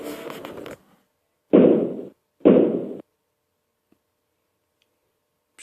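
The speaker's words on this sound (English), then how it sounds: "Chica, you're breaking the door." Heavy banging lands on a boarded-up door in Five Nights at Freddy's: a longer dull burst, then two separate thudding knocks with silence between them.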